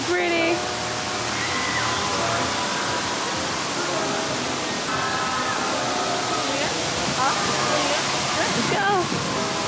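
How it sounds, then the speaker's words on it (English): A waterfall at the E-world amusement park in Daegu roars as a steady broadband rush throughout, with people talking and other crowd sounds layered over the water. "there's like a beautiful waterfall behind me"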